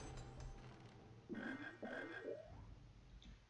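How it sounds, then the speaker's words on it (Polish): Frogs croak in the video game Harry Potter and the Chamber of Secrets, three rising, ratchety croaks in quick succession over steady game ambience, with no talking. "Żabów nam tutaj dają,"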